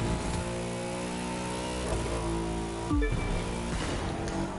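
Racing car engine in The Crew 2 video game, a steady loud drone with rising and falling revs and a sharp gear-shift dip near the middle, continuous throughout over game music.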